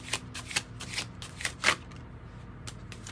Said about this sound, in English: That's the exact same card that, and I've shuffled these.